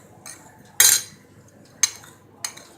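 A metal spoon clinks against a bowl while mixing bharvan bhindi masala, three sharp knocks spaced out over a faint background, close and bright.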